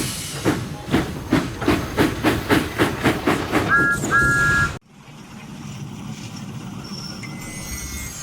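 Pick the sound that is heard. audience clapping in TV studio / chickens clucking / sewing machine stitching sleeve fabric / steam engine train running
steam engine train running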